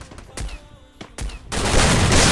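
Gunfire in the battle-royale game Free Fire: a few sharp single shots early, then a dense, loud burst of rapid firing filling the last second, close and with no talk over it.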